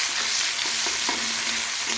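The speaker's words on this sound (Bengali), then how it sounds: "পেঁয়াজটাকেও আবার লাল লাল করে একটু ভেজে নিতে হবে" Sliced onion frying in oil in a pan while being stirred, a dense steady sizzle close up throughout, with a few soft scrapes of a utensil against the pan.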